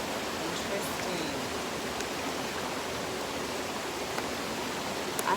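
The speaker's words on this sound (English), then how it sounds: "I hope the water isn't too loud" Steady rushing water flows continuously, a broad even hiss like a stream or small waterfall, with no clear voices over it.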